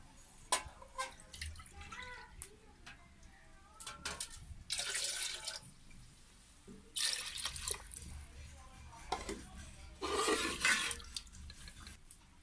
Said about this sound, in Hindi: उसके मुताबिक ही मैं पानी इसमें ऐड कर दूंगी